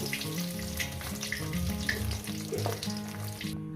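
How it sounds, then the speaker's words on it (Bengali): Two rohu fish heads fry in hot oil in a pan, giving a steady, close, crackling sizzle that runs throughout without speech. "মাছের মাথা দুটো একেবারে ভেজে নিই"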